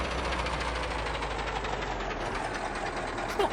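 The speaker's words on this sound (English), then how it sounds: "The truck sounds awful." Truck engine in a trucking video game, pulling a trailer with an oversized load and beacons: a steady, dense mechanical drone with a low hum, close and constant, with no voices.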